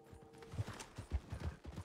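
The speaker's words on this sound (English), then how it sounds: "the horses are running" Hooves of galloping horses pound in quick uneven beats in the Red Dead Online video game, fairly faint and alone with no talking.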